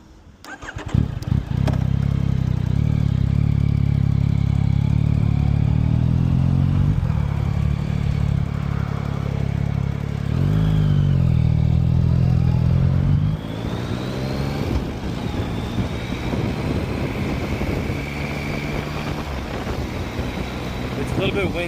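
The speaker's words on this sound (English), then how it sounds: "Let's go on a ride on this bad boy. It's a Yamaha." A warmed-up Yamaha FZ-09/MT-09 motorcycle idles with a loud, steady low rumble, then revs and pulls away, its engine note shifting under wind noise on a warm, breezy day.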